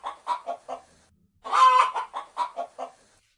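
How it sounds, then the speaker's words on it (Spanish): A hen clucks in a series of short rhythmic clucks, breaking into a longer drawn-out squawk midway before resuming, close and clear against silence. "Sí, es una gallina."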